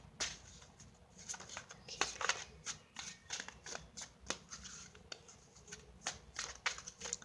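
Tarot cards are shuffled by hand in repeated quick riffling bursts, close and fairly quiet, with no talking.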